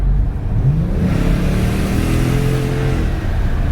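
A car engine revs and accelerates steadily, its rising harmonic drone loud and continuous throughout, with no talk over it.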